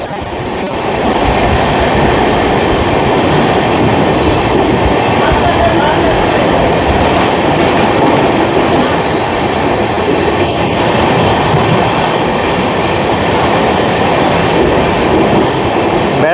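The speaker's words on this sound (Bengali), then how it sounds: "আমার হোম স্টেশন ব্যারাকপুরের 3 নম্বর থেকে থ্রু পেরোচ্ছে আমাদের কলকাতা সাইরাং এক্সপ্রেস" The Kolkata Sairang Express thunders through Barrackpore station on platform 3 as a loud, continuous rolling rumble of wheels and carriages that holds steady throughout, with faint clicks over the roar.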